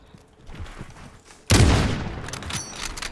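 Loud gunfire in a shooter video game bursts suddenly after a quiet stretch, a rapid cluster of close shots followed by a ringing, decaying tail.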